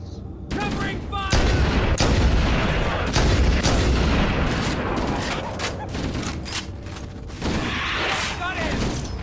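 Covering gunfire in the video game Halo: Combat Evolved: loud, sustained bursts of shots and heavy booms fire almost continuously in a busy battle, with brief voices in the mix.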